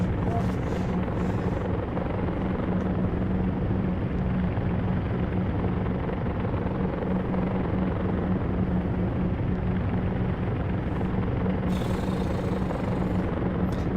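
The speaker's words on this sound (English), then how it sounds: "There's enough prop noise to keep someone who's obsessed with propeller noises going here." A Vickers Vimy biplane in Flight Simulator X gives a continuous, loud propeller engine drone that holds steady and even throughout, with no pauses.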